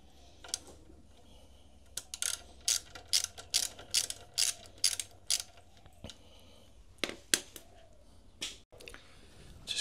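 A ratchet tightens the greased safety bolt on a Meteor 650 front wheel, giving a run of sharp, close clicking bursts in a steady rhythm with short pauses between sets of strokes.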